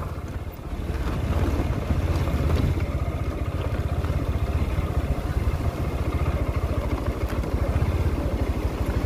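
A Honda Hornet 2.0 motorcycle rides through river water, its engine thrumming with a rapid low pulse under loud churning splashes and wind rush, close and continuous.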